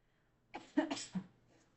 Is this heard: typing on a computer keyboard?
no